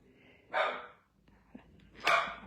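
Two sharp barks from a dog, separated by about a second and a half, with soft breathing or rustling between them.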